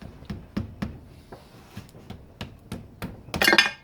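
Sharp metallic hammer strikes on a stuck engine plug land one after another at an uneven pace, ending in a quick, louder clattering burst, during work on a Honda SOHC 750 engine.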